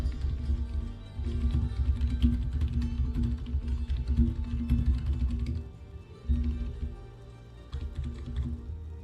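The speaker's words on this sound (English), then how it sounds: "I'm just typing in the Discord real quick." Rapid clattering keystrokes on a computer keyboard, typed in bursts with brief pauses, close and steady with no voices.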